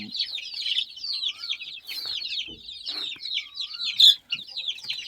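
Many chickens cluck and chatter continuously at close range, a busy overlapping flock with a few sharper squawks.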